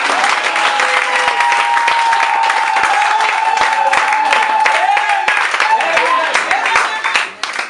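A church congregation breaks into loud, sustained applause and cheering to acclaim the Lord, dense clapping filling the space with voices mixed in, tapering off at the end.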